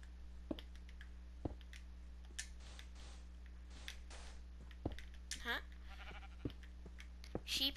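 Sheep bleating in Minecraft, short wavering bleats near the middle and end, mixed with sharp clicks and thumps over a steady low hum, with speech nearby.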